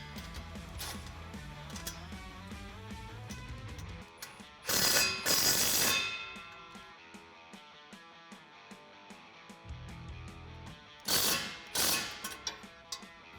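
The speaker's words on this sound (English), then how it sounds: "you can tighten that up with a 10mm wrench and 10mm socket" A 10mm wrench and socket tighten the exhaust tip clamp on a 2016-2020 Toyota Tacoma's Flowmaster American Thunder side-exit dual exhaust, giving two short bursts of close ratcheting over faint music.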